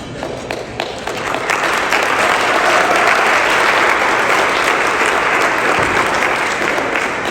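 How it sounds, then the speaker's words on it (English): A conference audience at an economic policy and budget event applauds its sponsors in sustained, loud, even clapping that rises quickly and holds steady for several seconds, filling the room with dense applause. "thank every single one of them for one round of applause"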